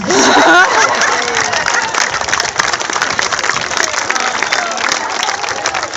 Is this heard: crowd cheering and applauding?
yes